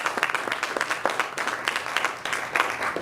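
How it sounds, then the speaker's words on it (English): An evening audience gives a round of applause for a university's Department of Computer Graphics Technology, many hands clapping in a lively, uneven patter that swells and fades slightly, with no talking on top. "So let's give that department a round of applause."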